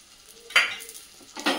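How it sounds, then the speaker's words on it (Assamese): Paneer pieces fry in a little oil in a pan, giving a soft sizzle with two brief louder bursts of stirring or turning, close and without talk. "ইয়াতে তেল দি দুপিচকৈ মই পটাপট ভাজি নিম"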